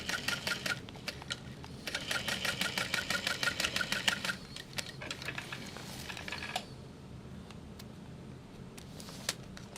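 A sewing machine runs in quick rhythmic stitching bursts through clear vinyl for a bag, stopping and restarting seam to seam, then gives way to quieter handling and a few clicks.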